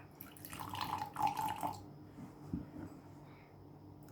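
Cold water poured into a glass to mix with foundation, a close, fairly quiet splashing trickle for about two seconds that fades into softer drips and faint handling noise.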